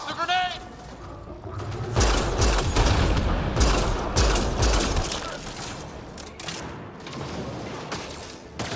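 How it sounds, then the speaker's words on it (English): Grenade blast and gunfire in a Mass Effect: Andromeda firefight, starting with a brief high chirp, then a dense, loud burst of booming and crackling shots that thins into scattered reports, with voices speaking over the combat. "Watch the grenade!"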